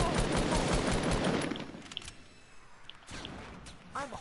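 Gunfire in a shooter video game: a loud, dense burst of rapid shots for the first second and a half, then sparser, quieter shots with brief gaps.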